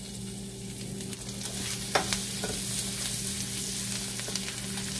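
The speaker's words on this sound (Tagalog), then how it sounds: "Gigisa na tayo" Garlic sautéing in margarine in a pan, a continuous close sizzle with a low steady hum underneath and a few sharp scrapes or taps of a utensil.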